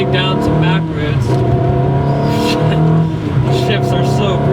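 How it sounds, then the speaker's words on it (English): Interior drone of a 2003 Ferrari 360 Modena with a Tubi exhaust cruising on back roads, a steady, loud engine note that shifts pitch slightly as it pulls, with someone talking over it. "This car is fitted with a Tubi exhaust, which makes it sound fantastic"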